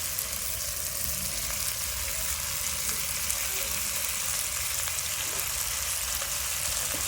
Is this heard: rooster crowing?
no